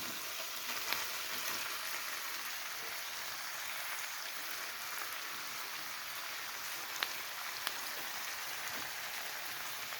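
Chicken pieces fry in a pan for chilly chicken, a steady, dense sizzle of hot oil that holds evenly throughout with a few faint pops and no talking.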